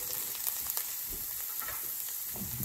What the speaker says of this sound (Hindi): अब इसी में जो है मैं शिमला मिर्च